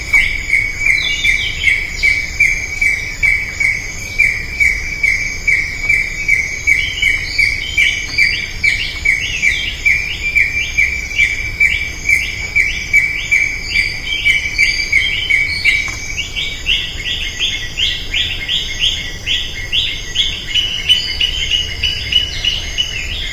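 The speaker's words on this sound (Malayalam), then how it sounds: "അതിരാവിലെ എഴുന്നേറ്റപ്പോഴുള്ള നമ്മുടെ പക്ഷികളുടെ ഒരു സംഗീതം നമുക്കൊന്ന് കേട്ടാലോ" Dawn birdsong near a bamboo grove in Periyar Tiger Reserve: a steady, rapid chirping chorus repeats for the whole stretch over a constant insect buzz, fairly close and with no voices.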